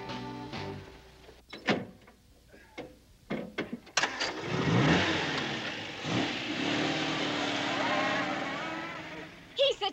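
A Triumph TR3 sports car engine catches and climbs into a loud, rising acceleration, holding a steady roar for several seconds after scattered short bursts at the start.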